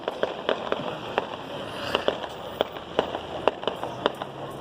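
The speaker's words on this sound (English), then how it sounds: "Part 2 of the 4th of July fireworks at the Bull Stadium." Fourth of July fireworks at a bull stadium crackle and pop as distant, sharp bursts, about a dozen irregular reports scattered over a steady hiss of ambient noise.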